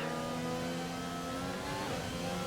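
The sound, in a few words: race car engines at race start, from a racing video game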